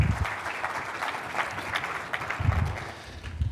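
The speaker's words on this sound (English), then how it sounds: "give them a round of applause" A conference audience at an agricultural sustainability session applauds steadily for several seconds, a dense wash of many hands clapping at moderate loudness, with no voices over it.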